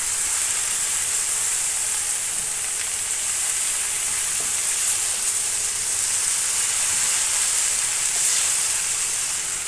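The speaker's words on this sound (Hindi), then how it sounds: "इसको 2 से 4 मिनट के लिए फ्राई करेंगे चम्मच चलाते हुए" Okra frying in a pan as it is stirred with a spoon, giving a steady, loud, continuous sizzle and hiss from start to finish with no voices.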